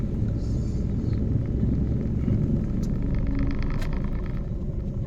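A car engine drones during a driving lesson, a close, steady low rumble that holds at an even level throughout with no clear surge in revs.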